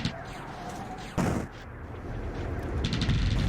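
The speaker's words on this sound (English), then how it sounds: "that base's point defense weapons are pretty good" A space base's point defense weapons firing in the video game Distant Worlds Universe, with a faint rattle of rapid shots and one louder burst partway through, mixed into quiet ambient game sound with no talk.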